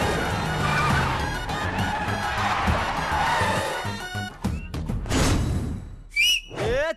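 People whistle loudly and repeatedly in a comedy film scene, sharp rising whistles over a crowded, noisy background.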